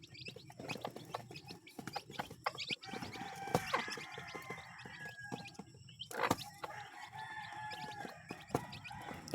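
Young chicks being fed chick booster feed, with a steady busy mix of cheeping, pecking and soft clucks, a rooster crowing faintly in the background, continuous and moderately close.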